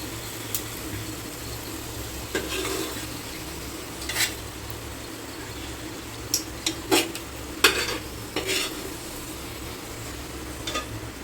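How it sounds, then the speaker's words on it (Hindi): Onions frying golden brown in oil for a pressure cooker biryani, a steady sizzle throughout with occasional clinks and scrapes of a spoon against the pan, close and without talk. "मेरा प्याज गोल्डन ब्राउन हो चुका है। मैं अभी उसको निकाल के प्लेट पे रखूँगी।"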